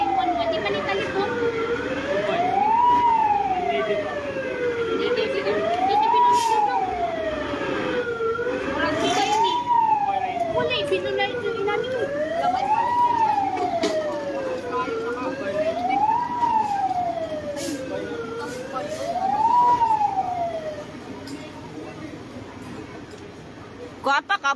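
A fire truck siren wails in slow rising and falling cycles, loud and sustained, with people talking and street noise underneath, arriving at a fire in Talibon, Bohol, Philippines.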